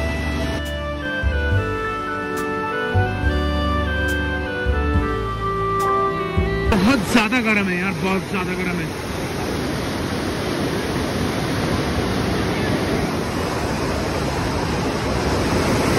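Hot spring water rushing at Manikaran beside the Parvati river, a loud broadband roar of flowing water that takes over after a musical opening and holds steady to the end, with someone briefly speaking over it.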